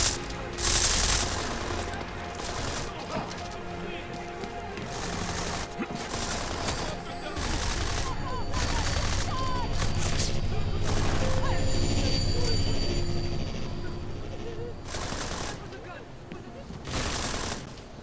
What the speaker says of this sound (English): Am I meant to help out with this gunfire?